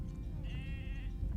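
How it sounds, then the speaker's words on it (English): A single sheep bleats once on the coast of Donegal, Ireland, a wavering nasal cry at moderate distance over a low outdoor rumble. "Oh, they said hi back. Morning, sheep."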